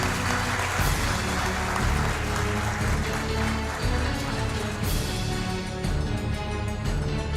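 Audience applause at the 4th Milton Vargas award ceremony, a dense, steady wash of clapping that holds at an even level throughout without any speech.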